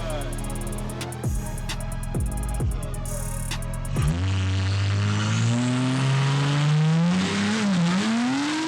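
An Audi SQ5 on a quarter-mile drag run, its engine rising in pitch through several gear changes with a sharp shift break, then a long loud pull of steadily climbing revs, heard close and strong.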